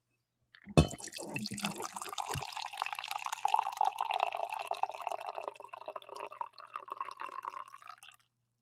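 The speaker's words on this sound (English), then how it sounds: "So let's get a coffee pour going." Hot coffee pours into a cup from close by, a sharp clink and then a steady bubbling, gurgling stream that rises in pitch as the cup fills before stopping.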